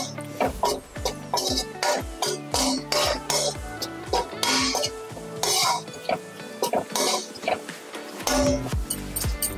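Garlic and masala fry in a pan for a Telugu pappu charu, with a soft sizzle under repeated scraping and clinking stirs of a spoon against metal, while someone talks.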